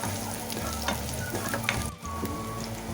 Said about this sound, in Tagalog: Gigisa lang natin siya sa bawang sibuyas.